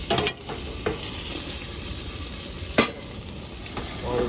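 Sausage sizzles and crackles steadily in hot oil, with a few sharp clinks of a utensil against the pan.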